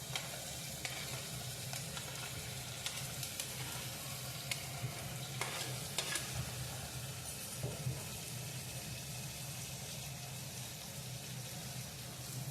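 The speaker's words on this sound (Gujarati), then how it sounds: "હવે તેની અંદર આપણે બટેકા ઉમેરી દઈશું." Potatoes are stirred into a frying pea and potato curry, giving a steady, loud sizzle throughout with occasional scraping and clinking from the stirring.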